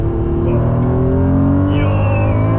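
Honda NSX accelerating hard in second gear, engine note climbing steadily in pitch as the revs build, loud and close from inside the car on a road in Durban, with no talking.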